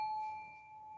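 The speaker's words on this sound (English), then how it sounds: "as I chime this singing bowl one more time" A singing bowl gives a single sustained, ringing chime, its steady metallic tone holding evenly without other sounds.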